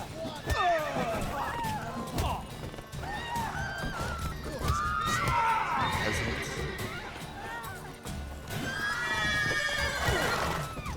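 A horse in The Witcher 3 whinnies and neighs repeatedly, mixed with clip-clopping hooves and game sounds while a person talks over it.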